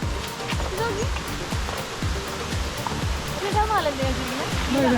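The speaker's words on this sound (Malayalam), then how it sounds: "ഇതെന്താ വെള്ളം വീഴുന്നുണ്ടോ" The Aruvikkuzhi waterfall in Idukki, Kerala, roars in a steady, continuous rush, while a person speaks intermittently over it.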